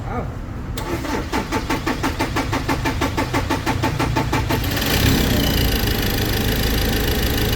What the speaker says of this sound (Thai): ติดแล้วนะครับแต่ต้องเลี้ยงคันเร่งไว้หน่อยนึงนะฮะ